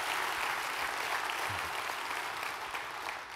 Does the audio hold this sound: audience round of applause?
yes